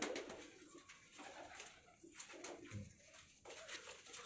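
Pigeons coo softly in a loft, with several low, faint calls spread across the moment amid quiet ambient noise.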